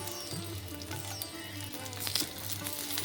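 Chopped onions fry in oil with ginger for a raw banana skin bharta, giving a steady close sizzle over a constant low hum.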